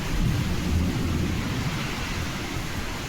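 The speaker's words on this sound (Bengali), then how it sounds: "আর মেঘও ডাকছে ওরকম" Low rumbling thunder rolls continuously over the steady hiss of heavy rain during a night storm, with no voices.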